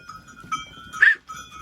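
Young lambs in a barn, with a couple of short bleats sounding close and clear against a quiet background.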